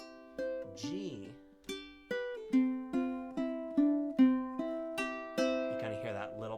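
Ukulele strummed chord by chord, stepping down from F toward C in a slow, even rhythm of about a dozen clear, ringing strums, with a brief voice or hum near the start and end.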